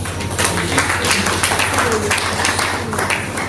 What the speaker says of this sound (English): The deserves a round of applause.